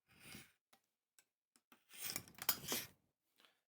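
Fabric being trimmed with scissors at a sewing table while cutting out a dress pattern: a few soft snips, then a longer burst of close, crisp cutting, and a last faint snip.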